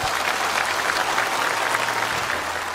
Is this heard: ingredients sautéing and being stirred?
no